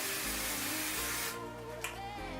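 A Garnier Fructis frizz spray is sprayed onto the hair roots as a loud, continuous broadband hiss over about a second, with a steady motor hum from a nearby appliance running underneath.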